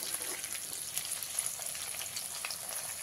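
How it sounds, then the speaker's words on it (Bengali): Okra frying in hot oil, a steady, close hiss and crackle of sizzling with faint stirring, with no talking. "এই ঢেঁড়সগুলো ভালো করে ভাজা হয়ে গেছে"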